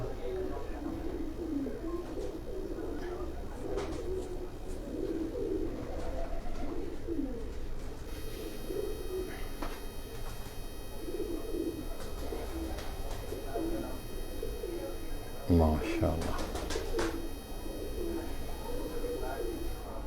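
Pigeons on the rooftop of a pigeon keeper's house in Jalalpur Bhattian coo softly at moderate distance amid outdoor ambience, with a voice speaking briefly over them.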